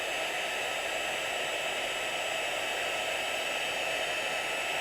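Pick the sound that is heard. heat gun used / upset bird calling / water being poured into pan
heat gun used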